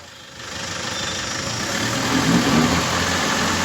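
A Toyota Innova cruising in top gear with a noisy right-side wheel bearing gives a steady, fairly loud road-and-engine drone that swells slightly partway through, with no voices.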